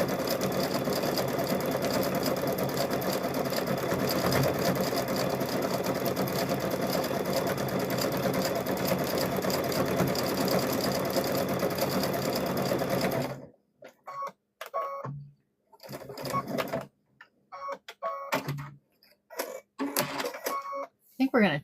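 A sewing machine stitches fabric in a loud, continuous mechanical whir that runs steadily, then breaks into short start-stop bursts with brief gaps between them.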